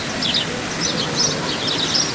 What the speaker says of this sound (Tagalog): mga huni ng yung ibon, yung iyong naririnig. Tunog ng ibon.